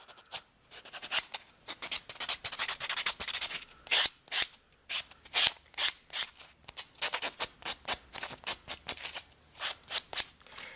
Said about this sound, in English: we're going to go over it with our block buffer